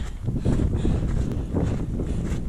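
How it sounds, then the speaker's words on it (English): Strong wind buffets the microphone on an exposed mountain trail near the summit of Mt. Lassen in Lassen Volcanic National Park, producing a steady loud low roar with gusty swells and no talking. "boy, it's windy up here"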